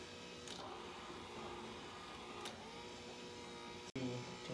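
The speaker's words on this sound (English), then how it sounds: "Okay, and start the motor." A small motor hums steadily during home film processing, a soft continuous whir with a couple of faint clicks and a brief dropout near the end before it resumes.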